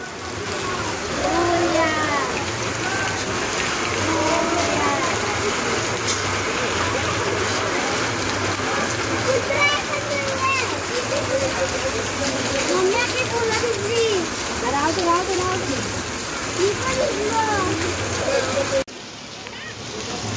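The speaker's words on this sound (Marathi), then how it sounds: "काय पाऊस पडतोय, जाम भिजलेला आहोत" Heavy rain and splashing water roar steadily during a Ganesh Chaturthi celebration while people talk over it, the downpour loud and constant until it drops off near the end.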